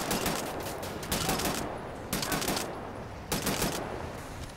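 Several loud bursts of rapid video game gunfire from Wolfenstein: The New Order, each lasting about a second with short pauses between. No talking is heard.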